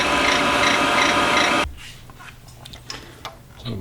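A cloth rubs polish hard onto a hidden-compartment key ring with a dense, loud, steady scrubbing that stops abruptly, followed by faint scattered ticks and small metallic handling clicks.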